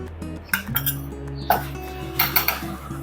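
Spoon clinking against a bowl while a spoonful of rice flour goes in, a few bright metallic taps and scrapes close by, scattered over about three seconds with no speech.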